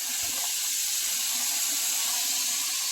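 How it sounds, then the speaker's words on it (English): Tap water running steadily over lemons being rinsed in a sink, a constant close hissing splash with no talking. "Got to properly rinse them"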